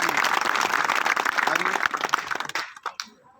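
Audience applause at a road foundation-stone ceremony in Tharad, Gujarat, a dense wash of clapping that carries on steadily and then tapers off into a few scattered claps, with a voice speaking over it.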